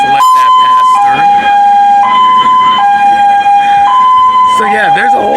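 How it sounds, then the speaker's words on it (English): An ambulance siren wails in a loud two-tone high-low alternation on a street in Sosua, Dominican Republic, close by, with a person talking over it and traffic noise underneath. "as you can see, an ambulance is coming down."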